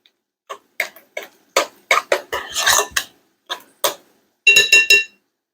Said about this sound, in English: So stir that